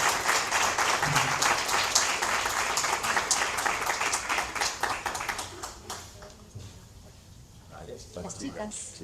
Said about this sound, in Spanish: le damos un gran aplauso para ir cerrando